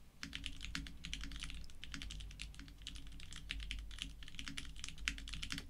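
Steady, fast typing on a Bakeneko60 mechanical keyboard fitted with GMK Laser keycaps, close and crisp clacks in a continuous run with no talking.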